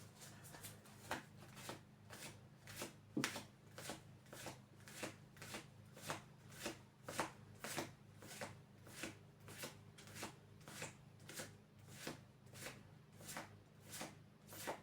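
A deck of cards is shuffled over and over in a quiet room, each faint riffle arriving in a regular rhythm of about one per second, with no voices.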